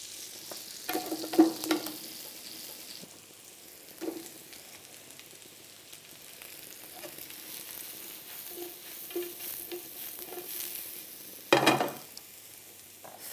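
Mushrooms fry in butter and olive oil in a pan, a soft continuous sizzle broken by occasional louder stirring scrapes and spatters close by, with no voices.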